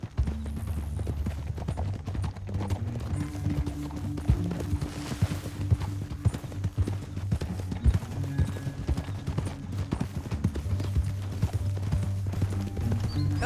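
Horse hooves in the video game Red Dead Redemption 2, a steady rapid clip-clop of riding at moderate distance, with a low rumble underneath and no clear talk.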